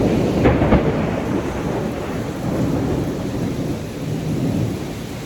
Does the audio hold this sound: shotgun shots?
no